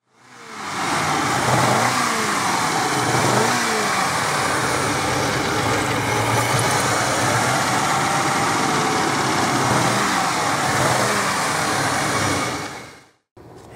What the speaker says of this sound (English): let you hear for yourself what this car sounds like with the stock intake